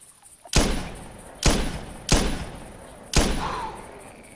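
Four loud, sharp rifle shots ring out in theHunter Classic hunting game, irregularly spaced and each followed by a short decaying boom.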